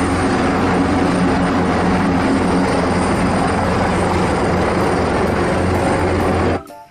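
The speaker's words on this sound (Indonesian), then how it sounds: "Ini ada helikopter warna biru." A blue helicopter whirs in a loud, steady drone that runs unbroken for several seconds before cutting off abruptly at the end, with no voices.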